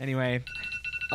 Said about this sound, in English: that's the alarm. That's my alarm.